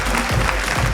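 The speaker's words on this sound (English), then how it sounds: "A big round of applause for my team for putting together such lovely questions." A brief burst of audience clapping at a quiz show grand finale, a dense, fairly loud patter of many hands lasting about a second.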